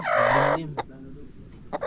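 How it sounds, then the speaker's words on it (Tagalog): A short loud squawk from a chicken, followed by a couple of brief faint clucks amid quiet background noise. "Parang may manok doon, oh."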